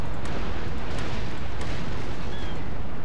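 Warship cannons fire in a naval battle in Napoleon Total War, a dense, rumbling roar of broadside booms and distant blasts that stays loud and continuous.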